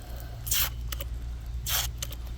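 Two quick sprays of Hybrid Solutions wheel and tire cleaner hiss from a trigger bottle onto a car wheel, each a short, close burst about a second apart, with light clicks between and a low steady hum behind.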